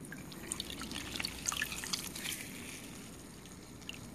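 Excess water drips and trickles from soaked bread squeezed by hand while preparing vegan aloo tikki potato cutlet dough, a soft steady patter of droplets close by.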